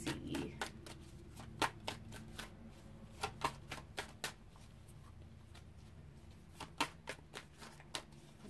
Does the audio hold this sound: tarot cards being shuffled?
yes